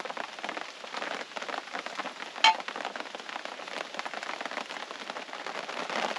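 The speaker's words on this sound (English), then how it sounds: "the raindrops start hitting" Steady rain patters on a taut awning overhead, a dense even drumming of drops with one sharper tap partway through.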